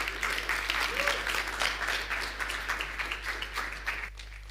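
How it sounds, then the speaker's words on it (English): Audience applause at a staking talk during Devconnect Buenos Aires, a steady wash of clapping from a crowd that carries on throughout and thins out near the end. "So again, a big round of applause for Oishin"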